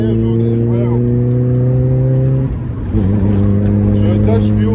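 Mazda MX5 Miata fitted with a noisy exhaust drones steadily and loudly from inside the moving car, its pitch dipping briefly as the driver shifts gear and then resuming a constant rumble under faint talk.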